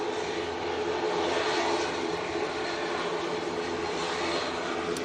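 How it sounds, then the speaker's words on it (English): A Logan Air propeller aircraft in Isle of Man livery moves at Manchester Airport, giving a steady, broad engine drone with a low throbbing undertone, fairly near and alone. "Logan Air in the Isle of Man livery coming on. It's going to be prop,"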